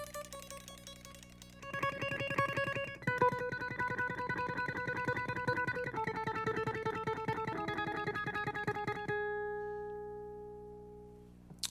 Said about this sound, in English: in my right hand, I'm going to tremolo pick